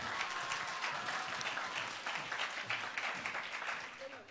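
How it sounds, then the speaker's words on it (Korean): An audience of high school students claps steadily and enthusiastically for a few seconds in a lecture-concert hall, a dense wash of applause that fades slightly at the end. "그럼 박수 부탁드립니다."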